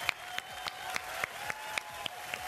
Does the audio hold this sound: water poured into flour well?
no